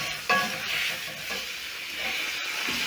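Rib eye steak frying in a hot pan, a steady close sizzle with broadband hiss that holds level throughout, one brief clatter near the start, no voices.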